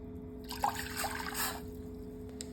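One cup of vinegar poured into a small saucepan on the stove, a brief, soft liquid trickle lasting about a second over a steady low electrical hum, no talking.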